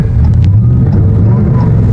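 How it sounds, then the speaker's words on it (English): A car engine idles close by with its exhaust cutouts cracked slightly open, a loud, deep, steady burbling rumble with a low throb throughout. "you could barely open the cutouts and it just changes the loudness of the car"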